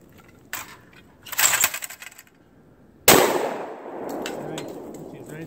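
A 12 gauge Lynx 12 AK shotgun fires birdshot at clay discs outdoors, one sharp, loud, close blast followed by a long fading echo, with metallic clatter and handling noise before it.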